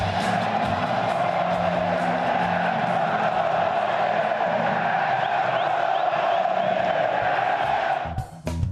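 A stadium crowd applauds a Santos player as he leaves the field during the Paulistão: a broad, continuous roar of cheering and clapping holds loud and steady, then drops briefly near the end.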